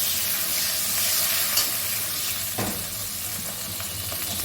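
Chopped tomato and a little water sizzling in a frying pan, heard as a loud, dense, continuous hiss close up, with a few faint utensil scrapes.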